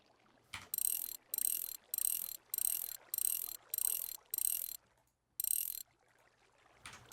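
Crank mechanism from the Minecraft modpack Project Ozone 2 turning in eight even bursts of bright ratcheting clicks, separated by short gaps, with a longer pause before the last burst.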